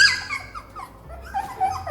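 A puppy makes high, thin whimpers and squeaks in short wavering bursts, close and fairly loud, with soft breathy noise between them.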